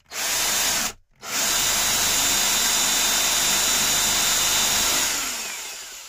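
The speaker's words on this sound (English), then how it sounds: "Now we just need to get our drill. This is a 6mm drill bit." A power drill fitted with a 6mm bit whirs loudly and steadily, stopping briefly near the start before running on continuously and then winding down.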